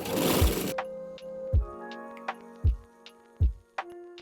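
A sewing machine stitches the outer seams of a handmade boutique-style shirt design, running in short mechanical bursts separated by soft thumps and pauses, close and clear with no talking.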